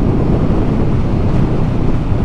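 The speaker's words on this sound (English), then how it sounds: "Oh, it's windy" Strong wind roars and buffets steadily against the microphone while riding, a loud continuous rush with no voices.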